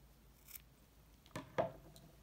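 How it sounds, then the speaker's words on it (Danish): Scissors snip through chunky knitting yarn, a couple of quick, soft clips heard close up in a quiet room with no talking. "Klipper tråden."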